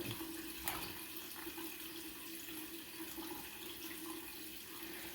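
Water rushing steadily out of an opened boiler drain on a home heating system, a constant close hiss and gush with no break or speech.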